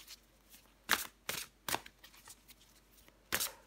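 Tarot cards are shuffled in several quick, crisp bursts of riffling and slapping, each a short papery rustle separated by quiet pauses, close by and alone.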